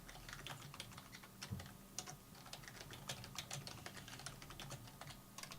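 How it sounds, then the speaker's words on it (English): Rapid clicks of a computer keyboard being typed on, irregular bursts of crisp keystrokes with brief pauses, fairly quiet and close, with no one speaking. "Who's typing?"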